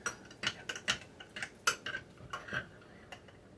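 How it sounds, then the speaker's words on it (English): A jelly spoon clinks and scrapes against a jar and plate while dolloping jelly onto breakfast biscuits, a series of light close metallic taps and scrapes at an uneven pace. "I'm going to put a dollop of jelly on each one of these jelly biscuits"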